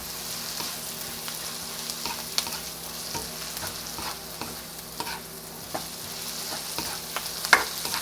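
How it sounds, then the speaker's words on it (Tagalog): Ginger and garlic sauté in a pan, a soft, steady sizzle broken by light scraping and stirring clicks, fairly quiet and close, with no talking. "lagay na natin yung ating luya or ginger. And isaute lang natin"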